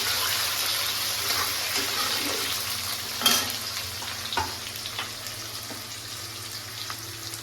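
Onions with whole cumin frying in a pan after a pinch of salt goes in, a close, steady sizzle with scraping stirs and a couple of sharper knocks of the spoon, no talking.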